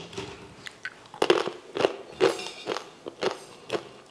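Crisp fried murukku, a crunchy Diwali snack, is bitten and broken into a run of sharp, brittle crunches at an uneven pace, loud and close, with no voices.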